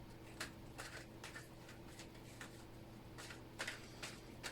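A deck of cards is shuffled close by and quietly, with soft repeated riffling bursts spread irregularly across the clip over a low steady hum.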